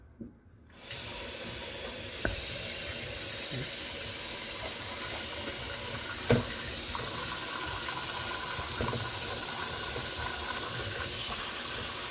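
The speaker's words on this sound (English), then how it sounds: "And I'm going to put some water in." Steady rushing hiss of tap water pouring into a pot for ham bone lentil soup, continuous and close, with a few faint clinks along the way.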